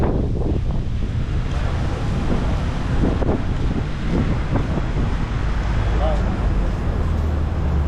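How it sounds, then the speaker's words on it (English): Strong wind gusts buffet the microphone on a walk through Waikiki, roaring steadily with ocean surf blended underneath for the whole stretch. "Oh, the wind."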